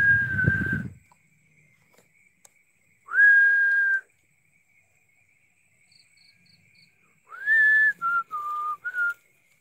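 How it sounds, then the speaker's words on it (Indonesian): Several clear whistles, a long single note, a pause, then another, followed by a short run of wavering notes, in a quiet setting. "ada yang siul."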